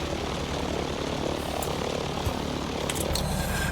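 F4F Wildcat piston aircraft engine in a flight simulator game, a steady close propeller drone running continuously at even loudness with no talk over it.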